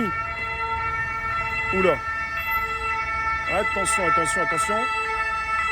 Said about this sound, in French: Ça chauffe, ça sirène, ça fait du bruit.